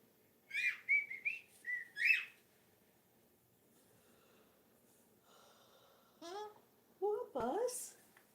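A pet cockatoo gives several short whistles and chirps near the mic, then sparse rasping and squawky calls after a quiet gap, with no one speaking over them.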